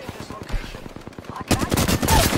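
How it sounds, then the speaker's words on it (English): Rapid gunfire in Apex Legends, a quick rattling burst of shots followed by a louder, denser volley that keeps going to the end. "I'm under fire."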